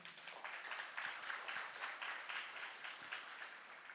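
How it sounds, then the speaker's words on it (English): A tech conference audience at RenderATL applauds themselves, producing a continuous, even patter of many hands clapping that sounds somewhat distant and soft and runs for about four seconds. "So give a round of applause to yourself."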